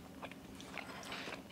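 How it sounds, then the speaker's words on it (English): Someone bites into crunchy porcupine chicken, a deep-fried dish, with a few close, crisp crunches and chewing sounds, quiet and free of talk. "Every bite has a crunch, and it's really delicious."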